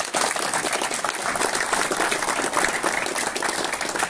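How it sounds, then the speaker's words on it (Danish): An audience applauds at a Danish gathering, giving a big round of sustained, dense clapping that stays loud and even from start to finish, with no talk over it. "Vil I ikke godt give dem en rigtig stor klap og respekt?"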